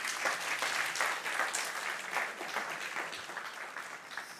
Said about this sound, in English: Everybody give one round of applause for Simon.